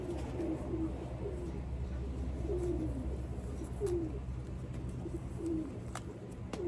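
Breeder pigeons in a loft give soft, repeated rolling coos at a steady pace over a constant low background rumble, with occasional faint clicks.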